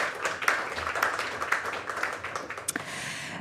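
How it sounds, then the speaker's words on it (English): A round of applause from a panel audience, fairly quiet and somewhat distant, with scattered individual claps over a soft, steady background of many hands. "So a round of applause maybe for our colleague Eloisa Viloria."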